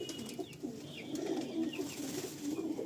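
A pair of white pigeons in a loft coo softly in low, repeated murmuring phrases, close by over quiet background noise.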